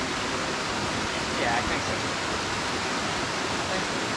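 A waterfall beside a hiking trail in the Cameron Highlands of Malaysia gives a steady, loud, broadband rush of falling water, continuous throughout, with a voice briefly speaking over it.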